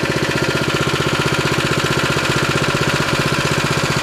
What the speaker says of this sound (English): Grab your ripcord and pull to start the machine. Use your throttle here to increase the gas.